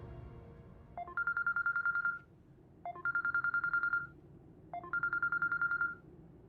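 A phone ringtone plays three times in repeating bursts of rapid electronic trills, each about a second long with short gaps, fairly clear and alone.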